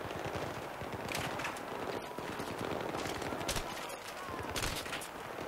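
Rapid automatic gunfire in Battlefield 3 crackles almost without pause, bursts overlapping into a dense, loud barrage with a few sharper cracks standing out.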